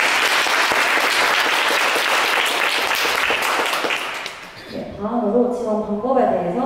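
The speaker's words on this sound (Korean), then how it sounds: "친절하게 안내해 주신 학술부장님께 다시 한번 큰 박수 부탁드립니다." Loud audience applause at a student club orientation, sustained clapping for over four seconds that dies away as a voice begins speaking.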